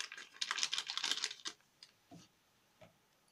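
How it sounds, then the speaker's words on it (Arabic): Flour being sifted through a kitchen sieve with a pinch of salt and baking powder for an eggless cake, giving a dense, rapid scratchy rustle and tapping for about a second and a half, then a few soft isolated taps. "هجيب مصفى وهنخل فيها كوباية ونص دقيق"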